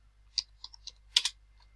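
Keys tapped on a computer keyboard while entering a pip install command, a handful of separate close clicks followed by a quick double stroke in a quiet room.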